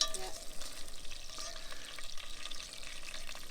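Meatballs browning in a frying pan outdoors on a narrowboat, a steady close sizzle and crackle of frying, with faint stirring and no clear talking.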